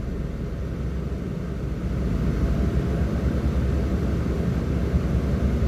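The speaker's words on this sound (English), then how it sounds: "Gonna have to rev it up as well. Get it in the rev range." A car engine held at raised revs during an alternator and battery electrical test, a steady low rumbling drone that grows slightly louder partway through and continues evenly without speech.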